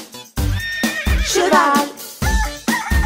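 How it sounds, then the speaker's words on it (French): A horse neighs with a wavering whinny over bright music in a children's educational animal song, framed by short sung phrases before and after. "Cheval."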